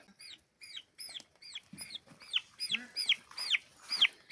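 Turkeys call in a rapid series of repeated chirping clucks, about two per second and growing louder, with lower gobbling notes mixed in, close and clear in a quiet outdoor setting.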